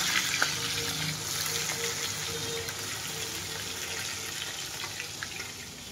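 Spice paste for fish sizzling in hot oil in a home kitchen, a steady, bright crackle and hiss that carries on evenly with small pops and no voices.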